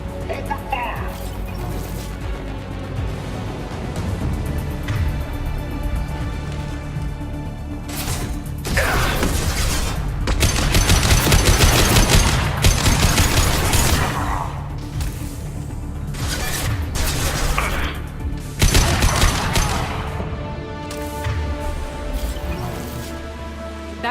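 Heavy gunfire and crashing impacts in a Mass Effect 2 firefight, loud bursts and booms swelling and fading over a long stretch, with voices shouting commands over the combat.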